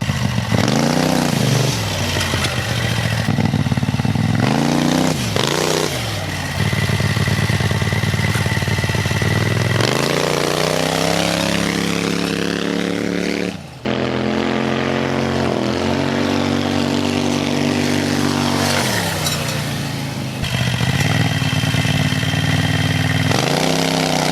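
A 670cc long-travel buggy engine revs hard over and over during wheelies, loud and close, rising and falling in pitch with brief drops between pulls.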